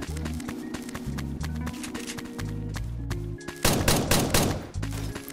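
Fortnite gameplay with bursts of SMG gunfire, rapid loud shots layered over a dense, busy game mix with footsteps and effects, with no talking.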